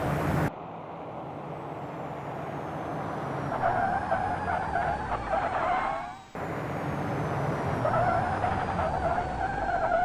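A Mercedes car brakes hard with its tires skidding on pavement, giving a loud sustained screech that builds, cuts off and then starts again for a second long skid, with engine rumble underneath.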